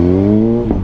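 A Kawasaki Z H2 motorcycle engine revs briefly and loudly up close, a rising tonal whine that holds for under a second, with no talking.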